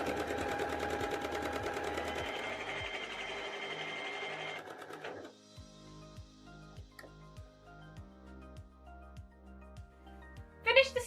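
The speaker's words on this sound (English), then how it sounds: "head to the sewing machine, select a medium length straight stitch and stitch the pocket piece in place" A domestic sewing machine runs a medium-length straight stitch on a trouser pocket piece, first in a fast continuous whir, then slowing into distinct evenly spaced needle thumps before a short clatter at the end.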